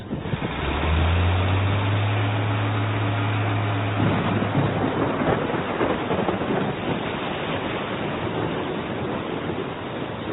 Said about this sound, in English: The storm suddenly strikes.